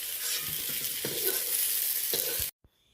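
Nigella seeds dropped into hot oil left from frying eggplant, sizzling loudly and steadily with a few soft stirring knocks, then cutting off abruptly near the end.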